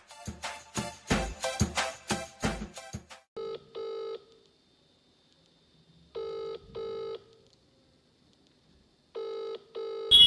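A phone call starts with a quick run of dialing tones, then a ringback tone sounds in three spaced pairs of steady electronic rings with silence between them.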